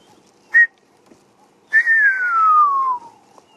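A person whistles an imitation of a woodland kingfisher call: one short note, a pause, then a long whistle that slides steadily downward before stopping.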